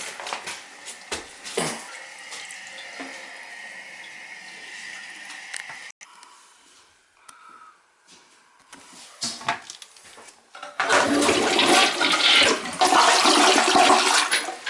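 A newly installed 1.2-gallon toilet flushes with a loud rush of water that swells over several seconds after some quieter handling noises, close by.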